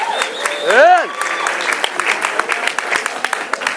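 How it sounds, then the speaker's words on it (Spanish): An audience applauds the panel of judges at a final-round competition, sharp separate claps rising over a bright sweeping electronic tone and a voice early on, then a thinning scatter of claps. "Un aplauso para ellos también, por favor."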